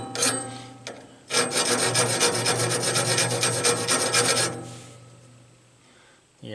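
A file rasps steadily across the teeth of a band saw blade in a run of close, repeated strokes lasting a few seconds, with brief pauses before and after.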